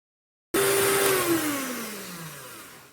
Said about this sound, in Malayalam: പഞ്ചസാരയും മുട്ടയും കൂടെ നന്നായിട്ട് നമ്മൾ അടിച്ചെടുത്തു.